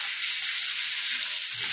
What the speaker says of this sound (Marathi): तर आपण कांदा छान असा परतून घेणार आहोत